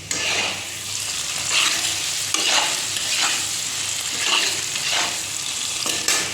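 Paneer fries and sizzles in a home kitchen pan while a spatula stirs it, with steady crackling and a few louder scraping strokes every second or so, close and with no talk.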